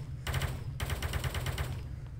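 Rapid automatic gunfire from the VR space shooter Space Pirate Trainer, a dense continuous burst of loud shots that starts after a brief gap and runs steadily to the end with no talking.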